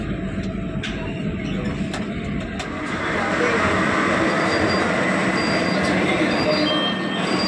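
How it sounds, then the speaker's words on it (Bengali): A Kolkata metro train runs underground, its loud rumble and rattling wheels building to a steady roar partway through, heard from inside the carriage with faint voices in the background. "এরপর আমরা গড়িয়ার দিকে মেট্রো ধরবো"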